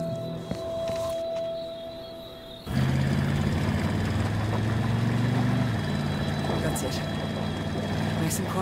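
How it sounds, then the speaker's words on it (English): A helicopter in the video game As Dusk Falls: a low engine hum sets in and then a dense, loud, continuous rotor-and-engine drone takes over and holds steady to the end. "Let's get a helicopter in the air."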